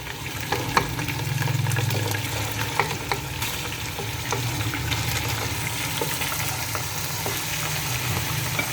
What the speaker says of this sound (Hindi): अब मैं इसमें ये सारा चिकन डाल के मैंने फ्राई करना है पहले।